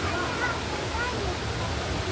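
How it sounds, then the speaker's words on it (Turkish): Düden Waterfall pours in a steady, full rushing roar, a constant broadband wash of falling water with no breaks, close and loud. "şelale akıyor, görüyoruz"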